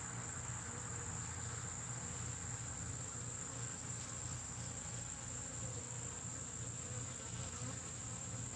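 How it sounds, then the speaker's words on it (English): A cicada gives a steady, high-pitched buzz that holds evenly for several seconds outdoors near beehives, faint and unbroken, with a low background hum and no talking. "Here's cicada."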